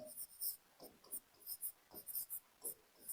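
Chalk or marker writing on a classroom board during a chemistry lesson, heard as a series of short, quiet scratchy strokes in an irregular rhythm, close and faint with no talking.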